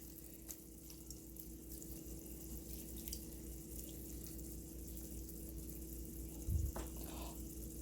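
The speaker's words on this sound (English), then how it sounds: "I'm going to add a little bit water here, mix it together, not on one place." Water is poured into a pot of jollof rice while it cooks, a faint, steady running-water hiss over a low hum, with a brief splash near the end.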